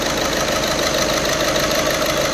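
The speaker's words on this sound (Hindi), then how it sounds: "इसका जो इंजन है ना काफ़ी अनबैलेंस है" A VW Vento engine with a faulty number one fuel injector idles unevenly in a steady, loud, close mechanical drone, heard alone without voices.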